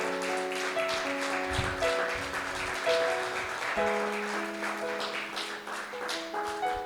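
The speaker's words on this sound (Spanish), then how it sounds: "Le damos un aplauso." Church congregation applauding in a Spanish-language service, a steady wash of clapping under sustained musical tones, moderately quiet and continuous.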